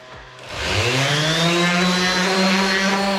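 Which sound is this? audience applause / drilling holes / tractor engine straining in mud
drilling holes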